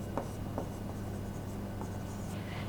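A pen writes an accounting journal entry on paper, producing soft, faint scratching strokes with a few small taps against a steady room hum, with no voice present.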